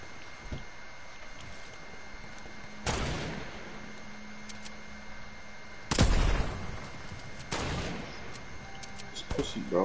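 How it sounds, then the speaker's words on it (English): Dragon's breath sniper rifle shots in the video game Fortnite: three separate loud, booming shots spaced a few seconds apart over a steady game background. "It's a dragon breath sniper."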